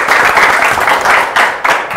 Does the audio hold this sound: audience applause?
yes